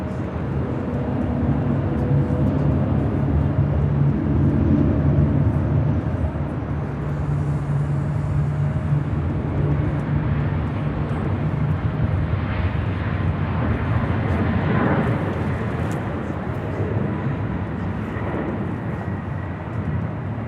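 An airliner takes off from runway 24 Left at Los Angeles International Airport, its engines a loud, steady roar that holds for the full twenty seconds with no talking.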